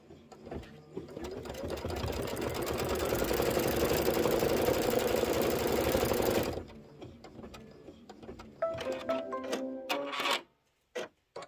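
An embroidery sewing machine runs a placement stitch for a Halloween pillow, a loud, steady rapid needle chatter for about six seconds that stops abruptly, followed by quieter handling clicks and brief thread rustles.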